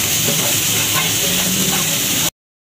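Chicken samosa filling fries in a pan with a loud, steady, close sizzle and crackle for a couple of seconds before cutting off abruptly.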